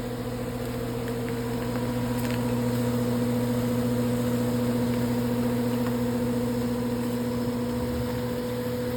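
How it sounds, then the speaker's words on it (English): Shop vac running on the condensate line of a home air conditioner, a steady loud motor whine with an unchanging drone for the whole stretch and no one speaking. "you'll have one person out here putting the shop vac on your condensate line"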